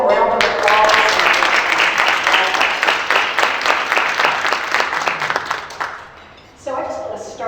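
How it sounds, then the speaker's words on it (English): An audience at a keynote address gives a round of applause, a burst of dense, rhythmic clapping that thins out after about six seconds, followed by a voice speaking. "let's just give them a round of applause"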